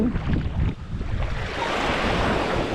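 Rough sea surges loudly with crashing, churning waves and wind buffeting the microphone, a continuous roar close by, at Lubang, Mindoro, Philippines.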